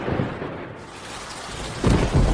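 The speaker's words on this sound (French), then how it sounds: "Il pleut." Rain and thunder: a steady rain hiss with a deep thunder rumble swelling near the end, loud and close, no voices.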